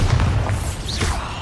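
A Bombarda spell blast in the Hogwarts Legacy video game lands as a short, dense, booming burst with a thudding low end that fills the whole brief moment.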